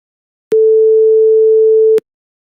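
A pure synthesized sine wave tone sounds for about one and a half seconds, a single steady loud pitch that starts and stops abruptly with brief clicks, with silence on either side.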